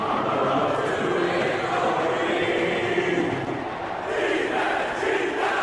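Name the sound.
video game stadium crowd noise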